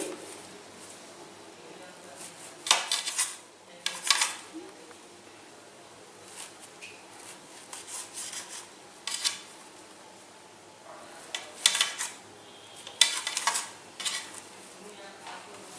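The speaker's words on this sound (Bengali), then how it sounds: "প্রথমে আমি ব্রেডের সাইডের এই অংশগুলো কেটে শুধু সাদা অংশটা নিয়ে নিচ্ছি।" A knife trims the crusts off slices of white bread, making sparse soft scrapes and taps at irregular intervals over a quiet low hum.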